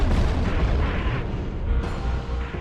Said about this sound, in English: suddenly there's an explosion at the back of the blimp